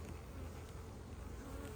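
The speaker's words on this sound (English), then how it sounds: "Some bees right here." Honey bees buzz around a hive colony on a trailer, a faint continuous drone with no voices.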